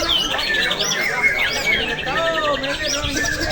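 Magpie robins, or murai, singing at an outdoor bird contest on a public field in Lombok: a dense mix of rich whistles, rapid chirps and squawky notes from several birds at once, fairly close and continuous.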